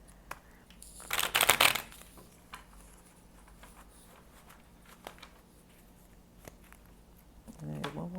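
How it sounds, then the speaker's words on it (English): Tarot cards being shuffled during a reading, a short burst of riffling and crisp card flutter, then scattered soft taps and handling noises in a quiet room. "And one more shuffle here for Gemini, please."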